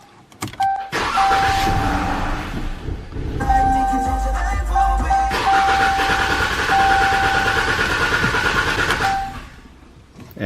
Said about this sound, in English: Now you go ahead and start the car and then let the engine die.